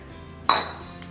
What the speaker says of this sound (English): a glass candle holder